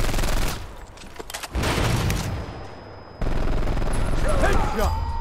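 Gunfire in the video game Brothers in Arms 3, with bursts of shooting and booms under game voice announcements, loud and busy throughout with a brief lull in the middle.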